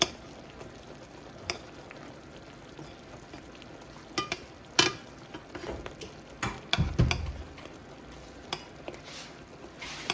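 Food with cooking wine cooking in a Comfee Flashwave toaster oven, a faint steady crackle and sizzle with scattered small pops and ticks, no talking.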